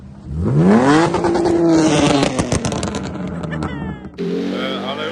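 A drift car's loud exhaust revs sharply at a track in a forest, rising in pitch and then crackling and popping near the mic, with a voice briefly at the end.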